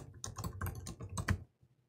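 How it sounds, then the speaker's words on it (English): Quick bursts of keystrokes on a computer keyboard while entering text in the nano command-line editor, fairly close and clear, a run of irregular taps that stops abruptly before a quiet tail. "I could type whatever I'd like."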